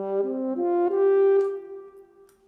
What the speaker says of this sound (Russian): такой небольшой треск в переходе между нотами